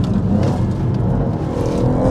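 A Stage 2+ tuned BMW M140i with an open differential accelerates hard, its engine giving a loud, deep, continuous roar heard from inside the car, with the wheels spinning, over a short burst.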